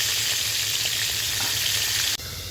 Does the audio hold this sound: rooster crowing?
no